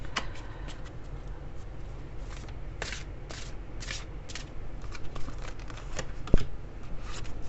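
Large oversized oracle cards being handled and shuffled, a steady run of close, crisp papery riffles and flicks with a sharper snap near the end.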